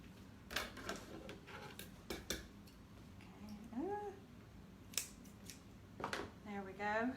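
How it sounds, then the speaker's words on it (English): Dollar Tree scissors snip through a thick stack of eighteen widths of ribbon, giving several crisp, close cuts at irregular intervals, with a faint cat meow in the background. "they're cutting through 18 widths of this ribbon"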